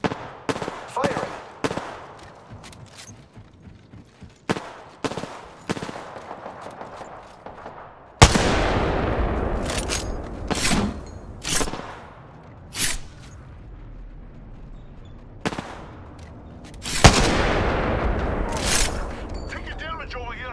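A Kraber sniper rifle fires in a video game: sharp, loud cracks at irregular intervals, two heavier booming blasts ringing out, with quieter game effects between shots.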